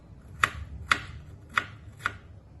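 Knife mincing food on a board, four distinct sharp chops spaced about half a second apart, close and clear against a quiet background with no talking.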